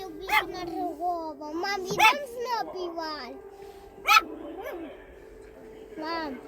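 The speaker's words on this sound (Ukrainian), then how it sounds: "ще Арчі гавкає" A dog yips and barks in short, sharp bursts spread across the moment, close by, mixed with a voice and whimpering sounds against a steady indoor hum.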